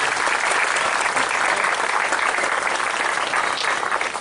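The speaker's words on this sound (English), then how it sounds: "So I'd love to give a round of applause to everybody involved in all of this tonight." An audience at a media preview claps steadily, a dense, even burst of applause filling the whole stretch without a break.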